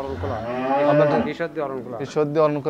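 A dairy cow, Holstein Friesian, moos loudly and close by at a farm, a long drawn-out low call followed by a few shorter lowing bursts.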